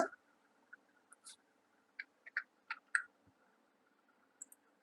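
Typing an Aadhaar number on a computer keyboard for an online ration card application: sparse light key clicks, about a dozen soft taps spaced irregularly in a quiet room.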